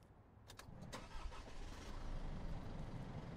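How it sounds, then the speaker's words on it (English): An Isuzu truck engine cranks with a few sharp starter bursts and then catches, settling into a loud, steady idle rumble close by. "Now start the engine."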